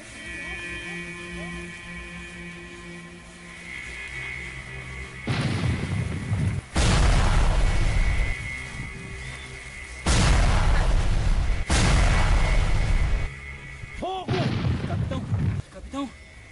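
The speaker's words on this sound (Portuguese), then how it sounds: "Acione os canhões!" Ship cannons fire in a naval battle against Dutch enemies, heavy booming blasts coming in several loud bursts, some back to back, over a continuous rumbling background.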